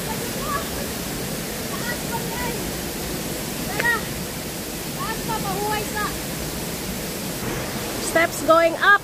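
Tinuy-an Falls in Bislig City pours with a steady, broadband rushing roar that fills the whole clip, while voices talk over the water and a few brief sharper sounds come near the end.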